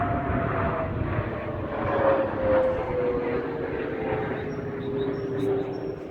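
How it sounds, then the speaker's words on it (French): An airplane flies overhead above a garden, its steady engine drone holding loud and broad for several seconds with a slowly falling tone as it passes, and no voices over it. "j'aime bien son bruit en plus. Je sais pas ce que c'est comme avion"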